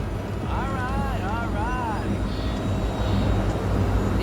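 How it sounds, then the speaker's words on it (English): Drone humming in Cyberpunk 2077: a steady engine-like whine runs throughout under a constant game soundscape, with a short warbling electronic tone and a voice talking early on. "Did you fire up that drone?"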